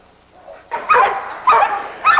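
A small dog in a yard barks three times in quick, fairly close bursts, each sharp and loud, after a quiet start.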